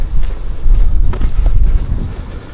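Loud wind roars and buffets the microphone on a Sheffield canal towpath in a brief, steady rush with low rumble and no talking.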